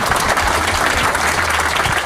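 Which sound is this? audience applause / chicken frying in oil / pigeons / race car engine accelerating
audience applause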